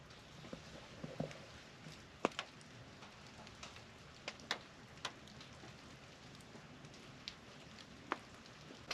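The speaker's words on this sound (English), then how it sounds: "what I'm hearing dripping now is just coming from the trees" Water dripping from trees onto a rooftop tent after an overnight heavy rainstorm: faint, sparse drops tapping irregularly against a quiet background hiss, with a few sharper, louder hits scattered throughout.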